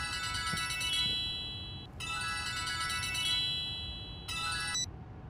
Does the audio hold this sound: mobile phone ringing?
yes